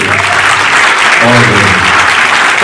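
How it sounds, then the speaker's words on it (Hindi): Loud, dense applause from an audience at a Ramayan-themed musical performance, steady clapping filling the whole moment, with faint background voices and a hint of music underneath. "एक बार जोरदार तालियां"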